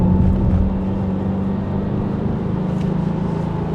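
A 2022 Subaru WRX engine drones steadily from inside the car while driving along a winding road, a low, even rumble with a faint turbo whoosh layered on top.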